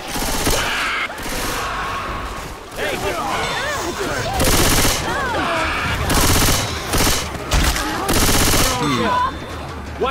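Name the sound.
gunfire in the video game Left 4 Dead 2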